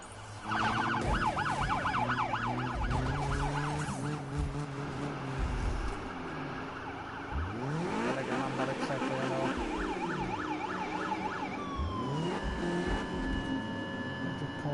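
Police car sirens wail in a Need for Speed racing game, several overlapping sweeping tones running loud and continuous throughout, with engine noise beneath and a siren pitch sweep near the end.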